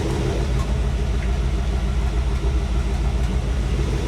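A small-block Chevy 350 V8 idles steadily, a close, loud, continuous low rumble with an even pulsing beat and no talking.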